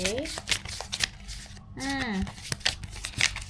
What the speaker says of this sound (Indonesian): Jadi kita langsung kocok aja